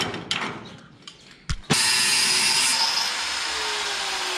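Power tool cutting through the metal of a sheet-clad sliding gate during a repair, a loud sustained high-pitched grinding whine that starts abruptly after a few knocks and clatters and continues steadily.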